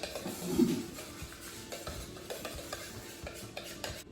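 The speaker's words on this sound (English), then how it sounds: "Now we're just gonna mix everything together." A spoon stirs deviled egg filling of mashed yolks, mayonnaise and relish in a bowl, giving close, soft, wet scraping and squelching strokes in an uneven rhythm, with no talking.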